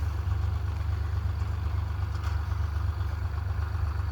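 A tractor idles in a farm field during millet sowing, giving a steady low engine rumble with faint clatter, continuous and even, with no voices.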